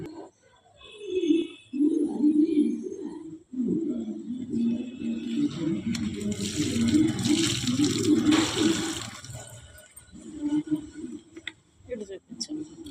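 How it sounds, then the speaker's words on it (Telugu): A bucket of water poured over fruit and vegetable peels, a steady rushing splash lasting several seconds under a voice talking throughout. "ఈ బకెట్ వాటర్ కలిపి పోస్తున్నాను నేను"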